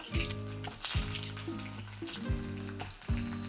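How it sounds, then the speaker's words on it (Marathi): Mustard seeds, cumin, chilli and curry leaves hit hot oil in a tempering, producing bursts of loud sizzling and crackling. The bursts come every second or so, then settle into a steady fry. No one talks. "तर तेल गरम झालेलं आहे फोडणी करता. तर आता आपण फोडणी घेऊ."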